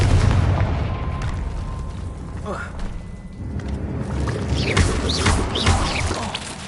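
Confringo and Bombarda spells exploding in the video game Hogwarts Legacy, a series of loud booming blasts and bursts over a dense, rumbling game soundscape with a voice calling out between them.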